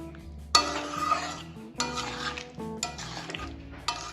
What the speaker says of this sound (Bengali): ভালোভাবে এবার মিশিয়ে নেব।